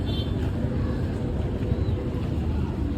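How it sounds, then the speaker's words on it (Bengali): A trawler boat pulls away from a riverside ferry ghat, its steady low engine rumble mixed with wind buffeting the microphone throughout. "ওই যে ট্রলারটা যাইতেছে"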